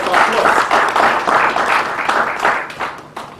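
An audience at a forensic coffee hangout event applauds the organizing committee, a loud, dense wash of many hands clapping that holds steady, then thins toward the end.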